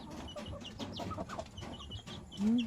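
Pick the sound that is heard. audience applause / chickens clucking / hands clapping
chickens clucking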